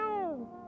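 Cat picked up in the No I'm Not a Human video game, a single clear meow gliding downward in pitch and fading out, close and alone.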